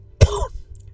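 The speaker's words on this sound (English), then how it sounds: "As I cough." A single short, close cough, loud and abrupt, followed by quiet.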